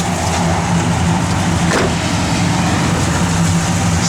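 A 1967 Pontiac GTO engine idling steadily, a loud, even rumble with a constant low hum that holds without revving for several seconds, heard up close and alone.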